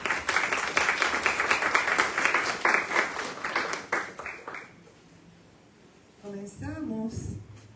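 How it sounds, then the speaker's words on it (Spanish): Audience applause at a literature and language event, lively clapping for about four seconds that fades out, followed by a brief spoken voice near the end. "vamos a comenzar con un aplauso."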